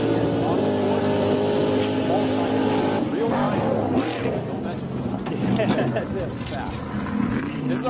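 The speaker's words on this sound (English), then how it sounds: "our first car is off the line" A trophy truck leaves the start line at the SCORE San Felipe 250 off-road race with a loud, sustained engine roar and a rising howl, close by, with a crowd and voices mixed in.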